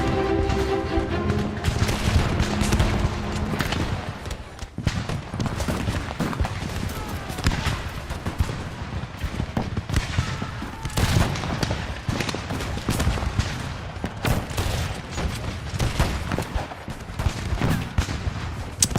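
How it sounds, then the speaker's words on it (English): Troops in a trench-warfare video game battle fire constantly, dense volleys of rifle and machine-gun shots cracking over a heavy rumble, with distant booms and occasional horse hooves mixed in. "we're still shooting back to the troops that are coming in"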